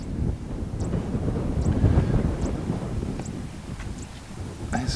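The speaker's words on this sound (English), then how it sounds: "it's been quite a windy day for us" Steady wind on the Impala Plains during a safari buffets the microphone with a low, continuous roar, broken by a few faint high chirps.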